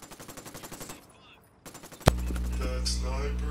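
Automatic gunfire in a Tom Clancy tactical shooter video game: a rapid string of shots, a brief lull, then a loud close blast followed by a sustained ringing tone, with players talking alongside.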